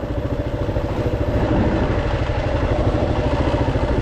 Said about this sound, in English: I've got this KLR 650, so a big adventure bike